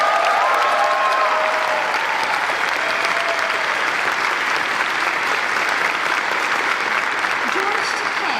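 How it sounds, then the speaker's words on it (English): A large audience at an honors gala gives a sustained round of applause, a dense, even wash of clapping that holds steady at full strength for about eight seconds. "giving another round of applause"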